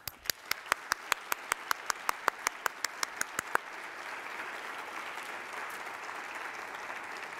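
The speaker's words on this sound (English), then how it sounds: "they're absolutely worth a double applause" Audience applause at an RIT ceremony marking the 100th anniversary of cooperative education, opening with a run of distinct, evenly spaced claps before settling into steady, sustained clapping from the crowd.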